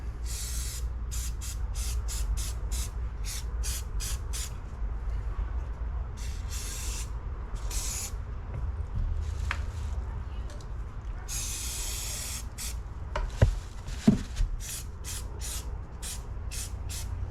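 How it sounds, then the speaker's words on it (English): Repeated bursts of CLP gun lubricant sprayed onto Enfield rifle parts, short hisses in a quick series then longer sprays, over a steady low hum with a couple of faint clicks. "A generous spray down of CLP."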